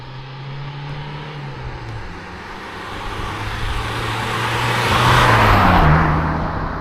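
Early-morning traffic on a road near Tahtali mountain (Olympos) starts moving: a close, loud, continuous engine drone that swells as vehicles accelerate and pass, with no voices.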